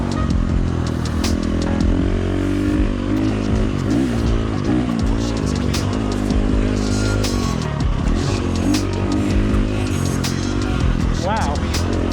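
A motorcycle fitted with a Tokyo Mods Vortex ECU revs up and down repeatedly under throttle, its loud engine note rising and falling close by while a rider talks over it.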